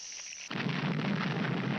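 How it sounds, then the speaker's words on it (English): A cartoon explosion erupts after a brief high whistle, becoming a dense, sustained roaring blast that stays loud to the end, with no talking. "That explosion made a mess out of you."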